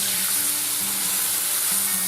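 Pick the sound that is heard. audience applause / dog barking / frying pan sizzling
frying pan sizzling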